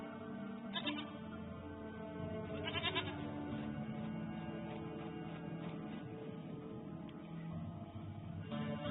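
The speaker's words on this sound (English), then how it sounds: "Goat of mine, dearest, sweetest goat." Goat bleating in the video game The Witcher 3, a few short, wavering bleats spaced over a quiet background with game ambience and no speech.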